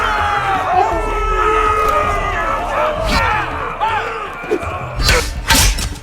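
A crowd cheers and shouts in a Game of Thrones video game arena, a dense roar of voices with whoops rising and bursting louder near the end, under steady noise.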